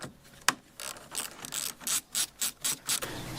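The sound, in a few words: ratchet undoing bolts on Hyundai fuse box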